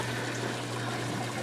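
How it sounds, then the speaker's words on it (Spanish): Steady broadband rush of water running from a hose while watering a vegetable garden plot with melons, continuous and fairly loud with a low steady hum underneath, no voices. "así que voy a regar macizo la huerta."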